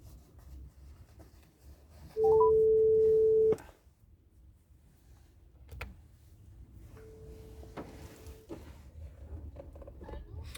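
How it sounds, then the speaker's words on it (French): A single steady electronic tone from a telephone while a call is being placed, about a second long and clear, followed by a quieter, fainter tone and low room noise. "je vais quand même lui passer aussi un appel téléphonique"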